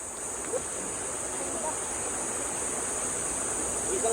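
Steady rushing water flows continuously, a soft broad hiss like a river, with a constant high insect-like whine above it.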